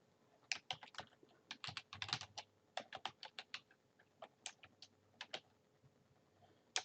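Keys on a computer keyboard are tapped in irregular crisp clicks with brief gaps, close and fairly quiet, the last stroke sharper like a firm Enter press, no speech.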